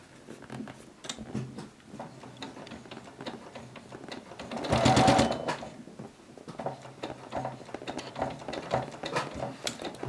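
A sewing machine fitted with a walking foot stitches through a quilt, giving a steady, close, rapid patter of needle strokes. The noise swells into a louder, denser run near the middle, with no talking.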